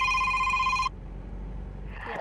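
A phone call rings through a car's Bluetooth audio system, a bright electronic ring tone that sounds for under a second and then cuts off, leaving a quiet low cabin hum.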